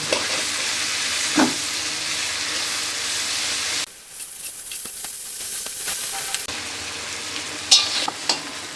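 Prawns sizzle steadily in hot oil, with a brief drop in the crackle midway and occasional scraping stirs.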